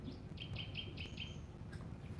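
A pet myna bird gives a run of short, clear chirping calls, moderately close and fairly quiet, with a few quick repeated notes against a soft indoor background.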